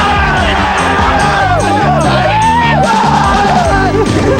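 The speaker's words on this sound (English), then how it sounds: "And the crowd went nuts." A college basketball crowd erupts with loud shouts, whoops and yells after the game-ending shot, a raucous, close, sustained din with a steady beat of music or stomping running underneath.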